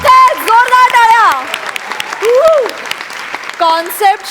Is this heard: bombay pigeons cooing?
no